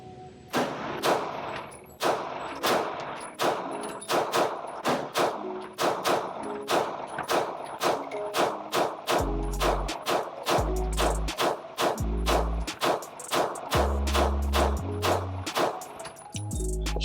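Oracle Arms 2311 double stack 1911 pistol fired in a long rapid string of sharp, loud shots at an even pace, with a few deeper thumps in the later part.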